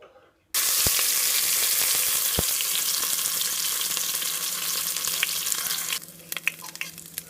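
Spices hit hot oil and ghee and erupt into a loud, steady sizzle and crackle while tempering for vegetable kurma, with a couple of sharp clinks early on and the frying easing toward the end.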